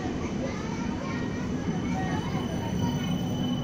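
A five-car Kaohsiung light rail train in NBA advertising livery rumbles past at Hamasen station C14, a steady close rolling of wheels on rail with people talking in the background.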